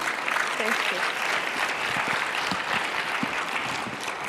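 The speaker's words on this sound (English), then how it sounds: "Hand of applause for Zine." An audience applauds at a food systems pitch day event with a steady, moderately loud wash of clapping that holds for the whole stretch, with faint voices underneath.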